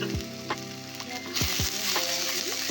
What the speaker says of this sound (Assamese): এতিয়া এই মছলাখিনি অকণমান ভালদৰে 1 মিনিটৰ কাৰণে ভাজি ল'ব লাগিব